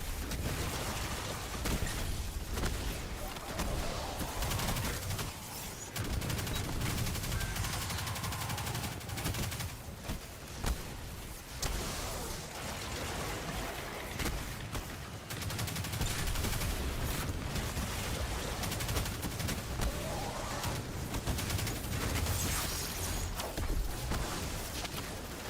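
Rapid gunfire crackles through a video game dungeon, with bursts of shots repeating throughout over a dense, noisy background, fairly steady and at moderate distance.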